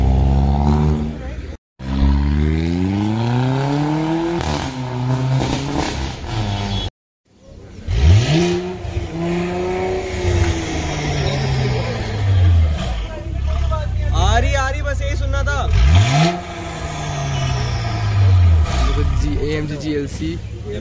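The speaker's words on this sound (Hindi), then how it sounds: "GLC 43 की आवाज़ ये वाली थी," Mercedes GLC 43 exhaust revving outdoors at a Khan Market supercar spot, with several loud rising engine sweeps that swell and fade, broken by brief gaps, as voices talk nearby.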